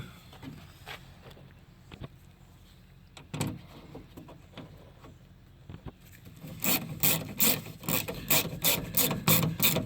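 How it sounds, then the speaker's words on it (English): A small 1/4-inch ratchet snugs screws on a car door panel, a few scattered clicks and rubbing at first, then a rapid, louder run of ratcheting clicks near the end. "Just using a little 1/4-inch ratchet."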